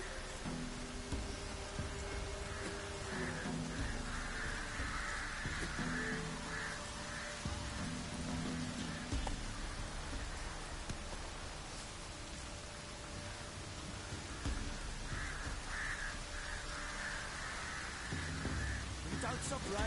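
Continuous rain in The Witcher video game, a soft, even wash of falling drops with low tonal ambience and occasional deeper swells beneath, lasting throughout.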